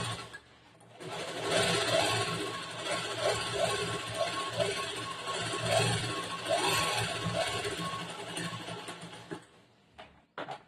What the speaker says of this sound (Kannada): ಕರೆಕ್ಟ್ ಆಗಿ ಮಧ್ಯದಲ್ಲಿ ಒಂದು ಹೊಲಿಗೆ ಹಾಕೊಂಡ್ಬಿಡ್ತೇನೆ